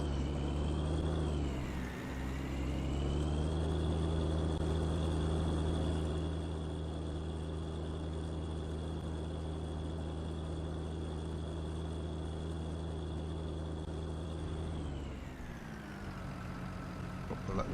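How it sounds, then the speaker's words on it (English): A cement truck drives in Farming Simulator 19, its engine holding a steady loud drone that rises in pitch as it speeds up and later winds down, with no voices. "We'll let the cement truck get out of the way."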